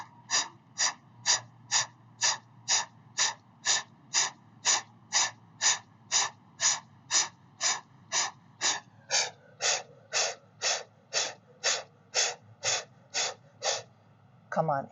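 Rapid, steady breath-of-fire yoga breathing from a seated pose on a block, with about two forceful nasal exhalations per second continuing evenly for the whole stretch, close and clear over a faint low background hum.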